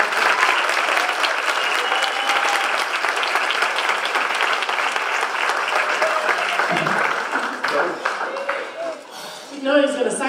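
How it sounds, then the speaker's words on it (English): Audience applause fills a banquet hall in Lubbock, Texas: steady, dense clapping from a large crowd that holds strong for about eight seconds, then thins and breaks up near the end with a few scattered claps and stray voices. "Another round of applause."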